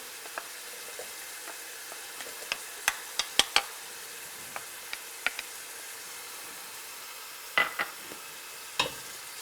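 Garlic frying in oil in a pan for mussels in tomato sauce, a soft continuous sizzle with scattered sharp crackles and spoon clicks, close and without talk.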